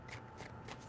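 Tarot cards shuffled by hand in three quick riffling bursts, crisp papery rustles evenly spaced and close up, with no voice over them.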